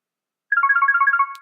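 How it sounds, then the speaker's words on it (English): A telephone rings in the Root Letter visual novel, a steady electronic trill of rapid repeating tones that starts after a short silence and keeps going clearly and alone, with no voices over it. "Rings for a moment before he picks up."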